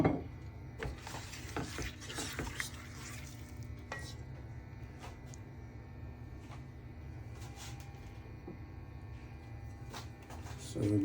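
Chopped onions being stirred in a cooking pot for Nigerian isi ewu, with a steady low sizzle and scattered scraping clinks of the spoon against the pot throughout.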